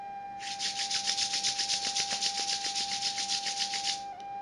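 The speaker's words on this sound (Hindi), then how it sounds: "दोनों पाम्स को तेजी से रब करें।" Two palms rubbed together quickly during a guided meditation make a fast rhythmic swishing friction that lasts about four seconds, close and fairly loud, with a steady tone humming underneath.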